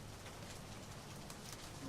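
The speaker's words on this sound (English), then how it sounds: "Oh, it's raining." Rain in the airport-management game Airport CEO: a faint, steady hiss of falling rain with a soft patter, continuous throughout with a voice faintly underneath.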